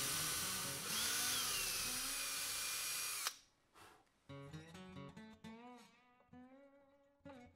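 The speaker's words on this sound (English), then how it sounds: "I'm gonna drill a hole in the top" A power drill whines steadily for about three seconds while drilling a hole in the top of a handmade mouse-shaped bass fishing lure, then cuts off abruptly; a voice follows.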